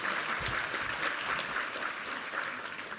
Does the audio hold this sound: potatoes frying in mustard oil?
no